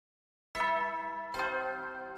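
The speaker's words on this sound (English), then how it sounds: "Ding dong." A two-tone ding-dong chime from the video game The Hundred Line, loud and clear alone: two bright harmonic strikes about a second apart, each ringing out with a long sustain.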